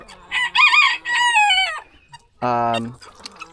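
A rooster crows loudly and close by, a long strained call in several rising and falling segments, then a short second burst after a pause, with faint background noise at a farm where geese and goslings are kept.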